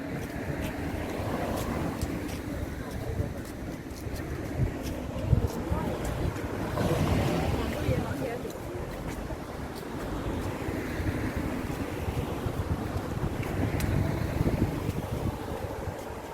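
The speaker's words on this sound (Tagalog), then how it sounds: "Sarap naman ang simoy ng hangin ah." A breeze blows steadily across the microphone on an open hilltop in a Hong Kong country park, a continuous gusty rush that swells and fades, with faint talk from hikers nearby.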